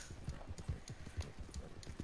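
Horse hooves pound at a gallop in Red Dead Redemption 2 Online, a quick steady clip-clop rhythm close by with no talk over it.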